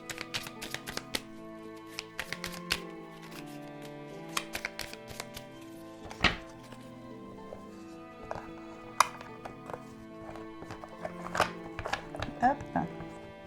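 A deck of oracle cards is shuffled by hand, giving close, irregular light taps and slaps in scattered bursts with soft rustling between them.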